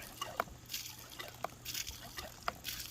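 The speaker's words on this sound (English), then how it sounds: "you can hand pump water all day if you want to" Water is hand-pumped from a well, with faint repeated splashes and trickles coming in an irregular rhythm against a low background hum.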